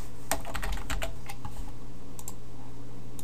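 Fast typing on a computer keyboard while coding an HTML5 page, a close, dense flurry of key clicks over a low steady hum, then a couple of isolated taps.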